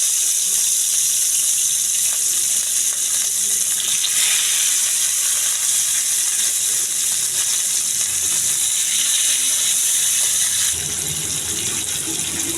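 Rui fish frying in hot oil, a steady loud broadband hiss and sizzle that continues without a break, easing slightly near the end.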